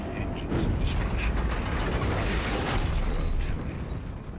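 Dark anchor engines from the Elder Scrolls Online grind and clank in a loud, sustained mechanical roll, with ratcheting and creaking bursts layered through, fading slightly near the end.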